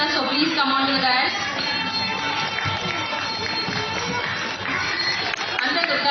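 Crowd clapping steadily at a dance studio's second anniversary celebration, a dense continuous patter of many hands in a large room, with voices and music mixed in.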